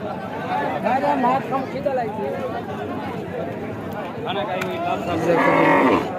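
A busy outdoor livestock market before Eid al-Adha at Gabtoli, Dhaka: cattle low and moo among a steady din of many people chattering and shouting, with the animals' calls rising near the end.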